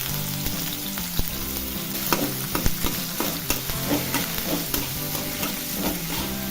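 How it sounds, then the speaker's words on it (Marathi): Chopped potato sautés in oil in a pan, a dense continuous frying hiss with quick scraping stirs layered on top, close and steady, no one talking. "आता बटाटा परतून घ्यायचा आहे"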